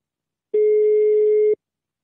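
A single steady telephone ringback tone, one clean sustained beep about a second long, loud and alone in silence.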